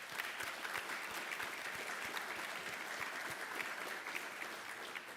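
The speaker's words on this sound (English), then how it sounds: "Please join me in a round of applause for them, please." A crowd at an institute's annual meeting applauds its departing leaders, sustained, even clapping from many hands in a large room, moderately loud throughout with no voices over it.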